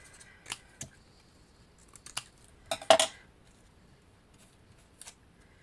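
Scissors snip paper for a Halloween enchanted-tree craft, a few crisp, close cuts spaced out over several seconds with quiet gaps between them and no talking.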